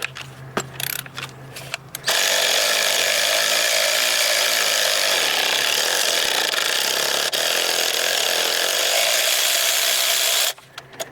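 A socket wrench turns loose a spark plug during a plug and coil change, giving a steady, loud grinding-ratchet rasp that runs unbroken for about eight seconds, preceded and followed by brief clicks and handling knocks.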